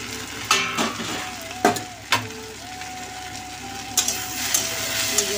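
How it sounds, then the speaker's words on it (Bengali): Water spinach (kalmi shak) fries in a pan with a steady sizzle, broken by several sharp scrapes and clinks of stirring against the pan. "আর এই যে শাকটা ভাজা হচ্ছে,"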